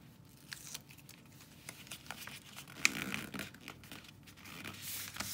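Paper is folded and creased while making a slimline card envelope, with soft crinkling and rustling and a sharper crease near the middle, close and quiet with no talking.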